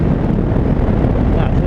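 Loud, steady wind roar buffeting the microphone while riding a Ducati Hypermotard 950 motorcycle, constant low rumble throughout.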